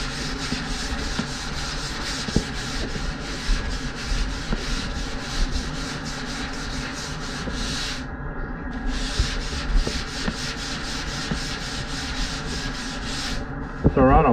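Hand sanding of a coloured foam surfboard blank along the stringer gives steady, close rasping strokes that rub on continuously, with a brief pause midway, under a low background hum.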